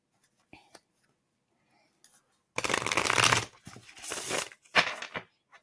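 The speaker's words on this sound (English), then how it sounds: "Let's do one more shuffle." Tarot cards are shuffled close up in a few quick riffling bursts separated by pauses, crisp papery flutters over a quiet background.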